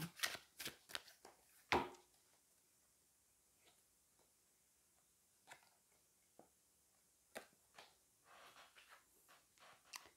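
Tarot cards shuffled by hand, a quick run of crisp close riffles and flicks at the start, then sparse soft card snaps and handling in a quiet room.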